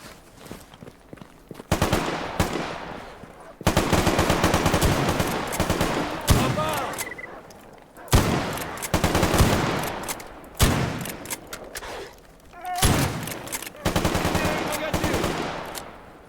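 Video game gunfire from S.T.A.L.K.E.R. GAMMA: loud bursts of automatic fire and single shots come in repeated clusters across the stretch, broken by short quiet gaps, with shell clatter and movement between volleys.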